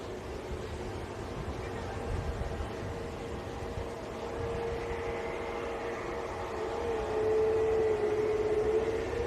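At Manchester airport, a Singapore Airlines airliner taxis out, a distant steady engine rumble with a thin whining tone that rises and grows slightly louder over time, no talk.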